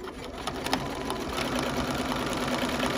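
A BERNINA sewing machine fitted with a walking foot stitches binding in a fast, even mechanical clatter, close and continuous, with no talk over it.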